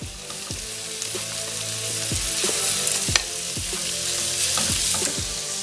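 Minced meat frying in a hot pan gives a steady, loud sizzle throughout, broken by a few sharp scrapes and stirs of a utensil across the pan.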